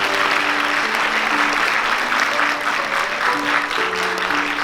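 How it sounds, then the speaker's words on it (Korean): Wedding guests applauding the bride and groom in a Seoul reception hall, sustained even clapping filling the room while sustained musical tones play underneath. "자, 그럼 신랑 신부 인사 여러분 박수로 함께 해주시기 바랍니다."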